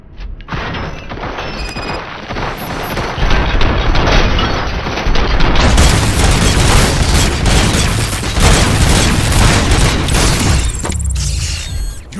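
Heavy, sustained gunfire and booming blasts from a shootout in the video game RoboCop: Rogue City, loud and dense across the whole stretch with no pauses.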